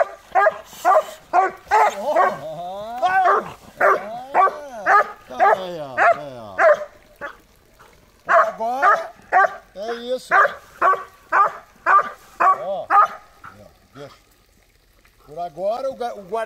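A dog barks repeatedly during a protection training test, loud close barks in quick bursts with pauses between, mixed with someone talking in Portuguese.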